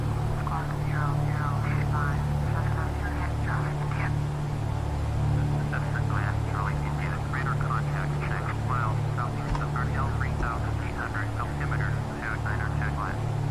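Steady droning engine hum of a Cessna aircraft in flight within a video game, continuous and fairly loud throughout, with people talking excitedly over it.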